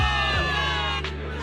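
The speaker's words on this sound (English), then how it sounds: "Give it up for yourselves, soldiers! Cheer for victory!" A crowd of soldiers cheering for victory in the video game Zenless Zone Zero, a loud continuous roar of shouts and whoops with some mixed-in voices.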